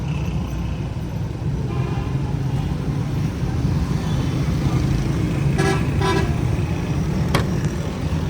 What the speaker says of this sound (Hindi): भाई शौकत जो है वो लेके आ गए हैं गाड़ी।